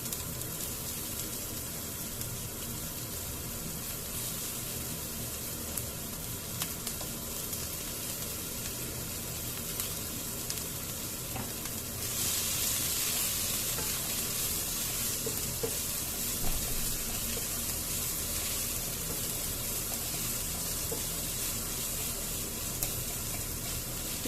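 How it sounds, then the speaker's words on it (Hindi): Chopped onions frying with asafoetida in a pan, a steady close sizzle with occasional stirring scrapes that turns brighter and louder about halfway through. "प्याज को हम अच्छी तरह से भून लेंगे।"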